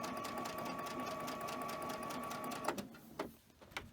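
A sewing machine stitching fabric pieces together at a fast, even, rattling pace. It runs steadily for nearly three seconds, then stops, leaving scattered clicks and handling noises. Quiet and close.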